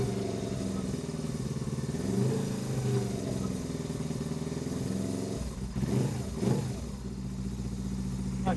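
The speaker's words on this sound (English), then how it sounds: "it's not running on both cylinders that tick over. But once you get the revs up, it suddenly" A Suzuki GS 500 motorbike that has stood unused for a few years and runs on only one cylinder at tick over, its engine idling roughly, then revving up in a couple of loud bursts before settling back to a steady idle.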